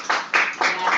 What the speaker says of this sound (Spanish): recibamos con un caluroso aplauso a Marian Orjuela.